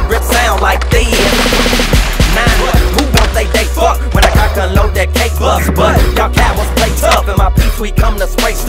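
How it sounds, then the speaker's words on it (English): Rapid bursts of gunfire used as a sound effect in a rap song sound loud and dense over a pounding bass-heavy beat. "My pistol grip sound like this."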